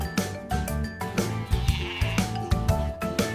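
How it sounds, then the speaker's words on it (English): A goat bleats loudly and close by in a string of short, wavering cries that repeat in quick succession. "The goat says me."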